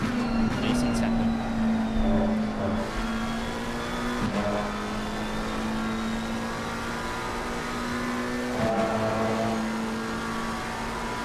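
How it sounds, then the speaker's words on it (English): McLaren GT3 race car engine in Assetto Corsa Competizione at Spa, a steady, raspy high-revving drone with brief gear-shift dips, heard under commentators talking. "Does the McLaren sound a little bit different?"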